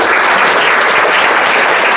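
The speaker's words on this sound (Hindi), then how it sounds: "ताली बजा दो कम से कम" An audience claps continuously at a school prize ceremony for grammar test results, with dense, loud applause sustained throughout the moment.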